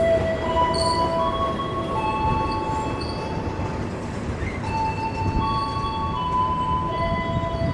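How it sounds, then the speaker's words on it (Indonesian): The Mutiara Timur passenger train pulls into Probolinggo station, with steady wheel rumble and several high, sustained squeals of wheels on rails overlapping one another as it slows. "kereta api Mutiara Timur telah tiba di jalur 2 stasiun Probolinggo"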